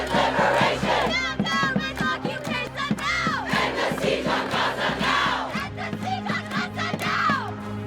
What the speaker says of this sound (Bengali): এ সময় বিক্ষোভকারীরা ফিলিস্তিন মুক্ত করো বলে স্লোগান দিতে থাকে।